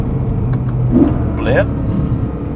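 A car engine gives a quick throttle blip and a short rev that rises and falls, close and fairly loud over a steady idle rumble, with a voice speaking over it.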